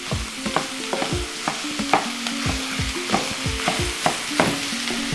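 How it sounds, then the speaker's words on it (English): A spatula scrapes and knocks through sausage browning in a hot pan, breaking it up in a steady, repeated rhythm of close scrapes over a constant sizzle. "break up all this sausage"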